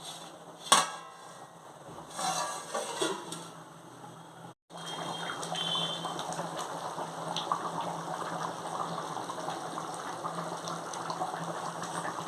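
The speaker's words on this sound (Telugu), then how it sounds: "చూసారండి ఎంత తొకతొకలా ఉడుకుతుందో" Fish curry boiling in a pot, a steady close bubbling and gurgling simmer running throughout, preceded by a few clinks of utensils and a brief dropout.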